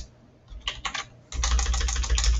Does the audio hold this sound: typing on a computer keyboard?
yes